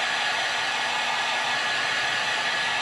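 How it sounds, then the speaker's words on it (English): A heat gun or hair-dryer-style blower sets fresh paint on a fishing lure, a steady loud broadband whoosh of blowing air that continues without a break and with no talk over it. "I better heat set that."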